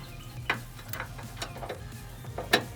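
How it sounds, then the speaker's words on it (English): A socket wrench ratchets on a zero turn mower bolt, giving sparse, faint clicks spaced about half a second apart over low background hum. "So what I do is I take the bottom socket wrench"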